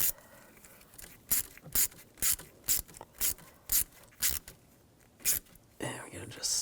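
A hose clamp is tightened onto a heater hose on a 2007-2013 BMW X5 with the 3.0L inline-six. About a dozen evenly spaced, crisp ratcheting clicks come from close by and are fairly loud.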